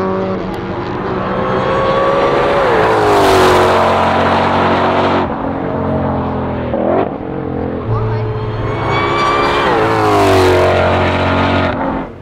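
Ford Shelby Mustang race cars with a track pack roar loudly around a circuit, engines revving and shifting pitch as they pass close by, with a voice talking over the noise.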